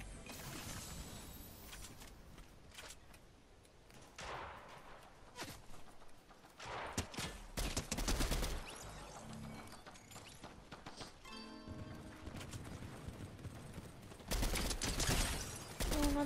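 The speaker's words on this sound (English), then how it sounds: "Someone's shooting at me." Gunfire in the battle royale game Fortnite: scattered bursts of shots and sharp impacts with clattering mechanical sounds and footsteps, loud spikes among quieter stretches.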